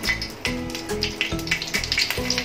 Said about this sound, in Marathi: तेल गरम झालं असेल, त्याच्यात मिरच्या टाकूया